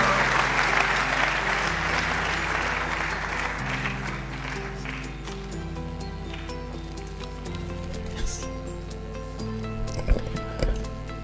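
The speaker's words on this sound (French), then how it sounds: "vous pouvez applaudir pour lui parce que ça a été un travail de titan." Audience applause at the closing ceremony of a trade fair, steady dense clapping over loud background music with a stepping bass line, continuing throughout with a few louder claps near the end.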